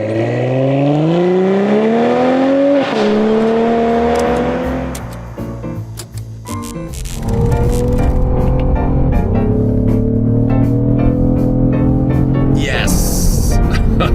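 A 2025 Cadillac CT5-V engine revs and accelerates loudly nearby, its pitch climbing through gears, dropping briefly, then surging again under sustained power, with some voices mixed in.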